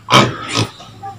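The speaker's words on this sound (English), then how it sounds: "Baby pigs!" Baby pigs on a farm give two quick, loud close grunts and a fainter third squeal.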